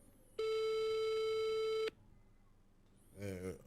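A telephone busy signal sounds on an unanswered call, one loud steady electronic tone held for about a second and a half, followed by a short burst of speech.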